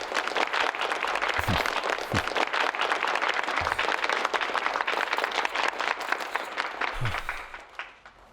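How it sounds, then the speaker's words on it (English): A crowd at a press event applauds to welcome a company shareholder, a sustained, moderately loud wash of many hands clapping that fades out at the end, with a few low thumps scattered through it. "A round of applause"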